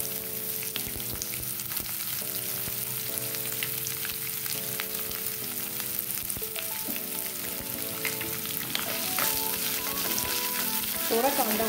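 Onion frying in a pan with curry leaves for an Andhra-style raw banana sabji, giving a soft, continuous sizzle under steady background music with no one talking.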